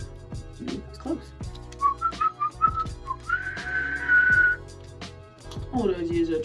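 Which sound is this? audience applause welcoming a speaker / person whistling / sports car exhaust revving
person whistling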